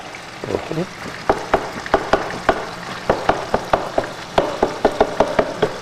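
Ground beef frying in a pan while a spoon breaks it up, with a steady sizzle under repeated sharp scraping taps in a fairly even rhythm, close and moderately loud.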